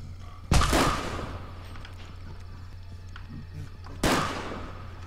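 Two loud gunshots ring out in a video game while shooting at an enemy, one near the start and another about three and a half seconds later, each decaying into a brief echoing tail over a steady low hum.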